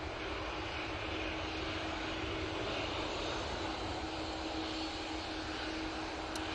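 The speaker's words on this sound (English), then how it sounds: "Ryanair 737-800 coming on now. Off to Belfast." A Ryanair Boeing 737-800 at Manchester Airport gives off a steady, broad jet-engine roar that holds at an even level for the whole stretch, with no voices over it.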